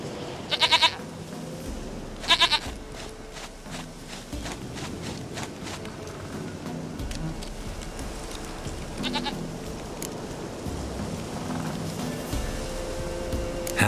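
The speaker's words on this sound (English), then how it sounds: "Goat of mine, dearest, sweetest goat." Goats bleating in The Witcher 3 game world, several short nasal bleats at intervals over a steady ambient background, with faint footsteps and no talk.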